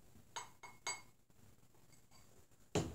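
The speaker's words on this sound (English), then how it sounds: "Take your glass there, Tony." A beer glass set out for tasting a Saku porter clinks a few times as it is handled: two light taps early on, then a sharper, louder clink at the end, close and without speech.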